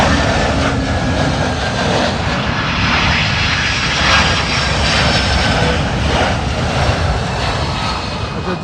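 A jet airliner on Heathrow's southern runway 27L produces a loud, sustained engine roar with a broad rumbling hum, continuous and close throughout.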